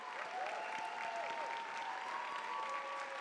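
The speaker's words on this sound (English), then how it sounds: "Let's give a big round of applause to all of our Audience Choice Award winners" Steady audience applause at the Do Good Challenge Finals awards event, honouring the Audience Choice Award winners; dense, continuous clapping from a large crowd fills the room at even loudness throughout.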